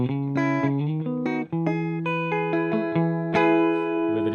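Clean electric guitar playing a run of ringing chords and single notes, bright and undistorted, with sustained tones and no talking.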